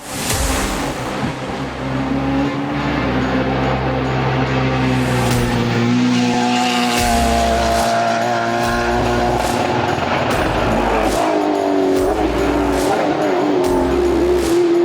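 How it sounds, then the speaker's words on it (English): Race car ripping through corners before Glen Cove at the Pikes Peak International Hill Climb, loud engine revving and shifting with rising tones and tire squeal, engine noise continuous and up close. "That was Jimmy Ford ripping it in the corners just before Glen Cove at the Pikes Peak International Hill Climb"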